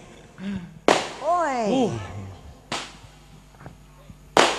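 Firecrackers go off at a village circumcision celebration with a live comedy show: three sharp, loud bangs spaced a couple of seconds apart, while voices shout and call out between them.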